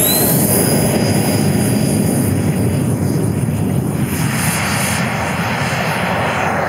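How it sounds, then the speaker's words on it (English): A JETFAN-130 electric ducted fan model jet, about 14.5 kg and 12 kW, takes off with a loud, continuous roaring whine that holds steady and then eases slightly as it pulls away. "Taking off on JETFAN 130."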